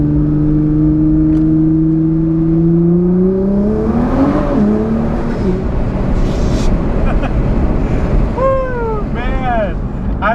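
A Nissan GT-R accelerates hard, the engine note climbing steadily through the gears with loud, continuous roar and wind rush heard from inside the car.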